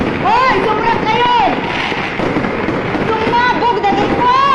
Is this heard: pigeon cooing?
no